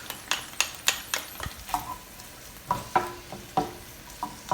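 Garlic frying in olive oil alongside cooked green beans, a gentle sizzle under a series of sharp clicks and scrapes from a utensil tossing the pan, close and intermittent, no speech.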